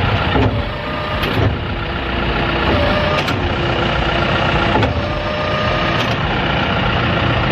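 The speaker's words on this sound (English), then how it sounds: "Let's see how the seeder works." A tractor pulls a seed drill planting beans in a field, its engine a steady, loud drone that runs through the whole stretch with a few brief clicks and knocks from the implement.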